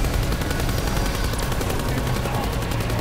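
Dense, continuous gunfire from Black Ops 4 Zombies pounds steadily and loudly throughout, with rapid-fire shots stacked over game noise.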